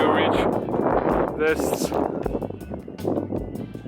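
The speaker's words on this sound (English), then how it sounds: "it's windy. I don't think you can hear me clearly" Wind gusting across an exposed coastal route near a glacier, a steady loud rumble buffeting the microphone while a person talks over it.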